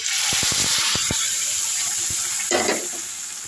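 Hot tempering poured from a ladle into drumstick leaf lentil dal: a few light clicks, then a short splashing pour, close and fairly loud.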